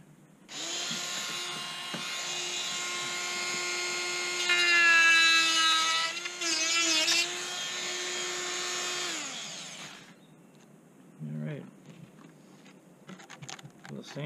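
A high-pitched power tool whines steadily for about nine seconds, its pitch rising and wavering as it cuts into a plastic coolant tank cover on a C5 Corvette, then stops, leaving a few clicks.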